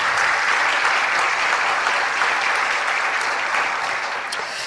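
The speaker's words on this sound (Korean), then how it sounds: "자리에서 일어나실 때 따뜻한 박수로 환영해 주시길 바랍니다." Warm applause fills a church as a visiting pastor is welcomed, a dense, even wash of many hands clapping at moderate loudness for several seconds, gradually tapering toward the end.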